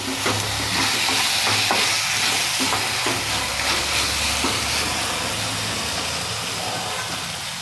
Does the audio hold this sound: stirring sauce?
yes